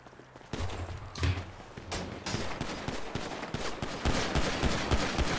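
Rapid bursts of gunfire in a video game, repeated cracks and thumps in quick succession, growing louder and denser toward the end.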